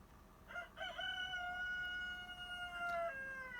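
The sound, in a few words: rooster crowing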